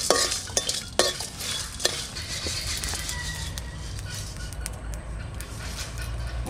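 Whole spices (dried chilli, cumin, bay leaf, cardamom, cinnamon and cloves) fry in a pan, a soft steady sizzle under sharp metallic clinks and scrapes of stirring, close by.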